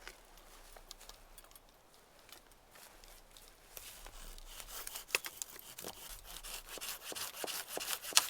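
A fallen tree across a canoe portage in Algonquin is sawn by hand, a faint, raspy back-and-forth rubbing that grows gradually louder and more insistent.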